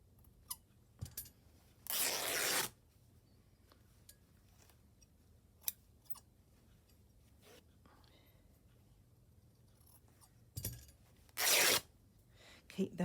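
Scissors snip thread during hand slow stitching, giving two short bursts of cutting noise several seconds apart, close and fairly quiet, with small handling taps between them.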